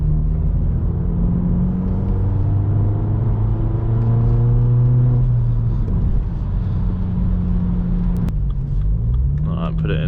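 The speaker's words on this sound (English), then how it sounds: "Should we do an accidental wheel spin here?" A BMW 118i F21 engine revs hard in Sport Plus with traction control off, its note climbing and falling in steady rising sweeps as the wheels spin, loud and close with a brief pop near the end.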